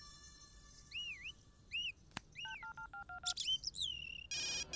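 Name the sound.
phone ringing with incoming call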